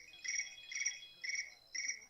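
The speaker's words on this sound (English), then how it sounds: "Your phone does a cricket sound?" A phone notification plays a cricket chirping sound: four short, bright, trilling bursts in a regular rhythm, clear and close, with nothing else heard around them.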